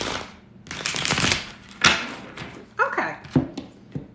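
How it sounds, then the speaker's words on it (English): A brand-new tarot deck is shuffled in quick riffling bursts, crisp card flutters and taps close by, separated by brief pauses. "Okay, one more shuffle."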